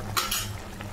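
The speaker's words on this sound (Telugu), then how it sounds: "సాల్ట్ వేసేసి కలుపుకున్నాను" Spoon stirring salt into boti curry in a pan, a few quick metallic scrapes and clinks against the pan over a low bubbling simmer, brief and close.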